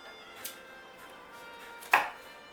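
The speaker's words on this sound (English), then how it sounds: "Now I'm going to go ahead and get started chopping up." Ingredients for a cream of mushroom soup with smoked ham are chopped on a board, with two sharp knife strikes, the second louder, against a low kitchen hum.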